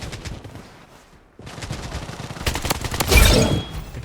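Gunfire in the PC shooter Blood Strike, with rapid automatic bursts and volleys of shots that grow louder and denser toward the end, loud and close.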